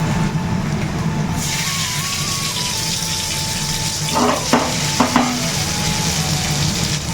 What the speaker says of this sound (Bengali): এই রসুন আর পেঁয়াজটা একটু ভালো করে ফ্রাই না করলে ভালো লাগে না।